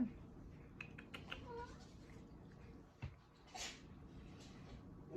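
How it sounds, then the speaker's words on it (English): A cat meows a few times, fairly faint, among household rustling and light clatter indoors. "Baxter, Luna, my kitties, meow meow."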